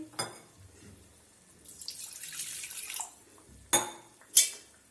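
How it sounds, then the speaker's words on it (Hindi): Water mixed with gram flour and spinach is poured into a simmering spinach kofta curry gravy, making soft, faint liquid sloshing followed by two brief, sharper splashes. "इसके बाद हम इसमें ये पानी डाल देंगे जिसमें हमने बेसन के साथ पालक को घोला था।"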